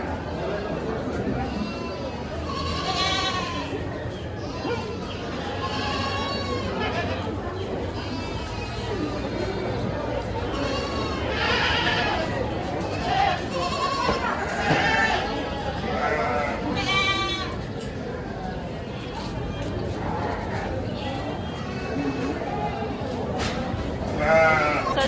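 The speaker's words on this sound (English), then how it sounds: "And then over here they have sheep and goats." Sheep and goats bleat repeatedly at an outdoor livestock market in Zimatlán, Oaxaca, with overlapping calls near and far over a steady murmur of crowd chatter.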